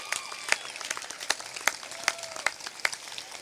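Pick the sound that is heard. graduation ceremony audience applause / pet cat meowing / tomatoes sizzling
graduation ceremony audience applause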